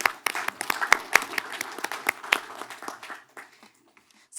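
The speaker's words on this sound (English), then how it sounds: "A round of applause for Rodrigo." Applause from a conference audience at a networking technology event, a close burst of sharp individual claps that thins out over a few seconds and fades to near silence.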